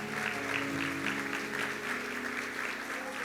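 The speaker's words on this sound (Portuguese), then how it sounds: "Você pode dar um aplauso a Ele?" A church congregation applauds steadily throughout, a dense, even wash of clapping with a faint tonal music bed underneath.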